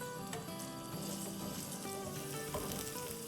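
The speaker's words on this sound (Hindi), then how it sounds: "चलें इसको थोड़ा सा सौटे कर लेते हैं।" Garlic and ginger paste sautéing in a pan for channa mutton pulao, a steady, close sizzle that crackles evenly throughout with a few soft stirring sounds.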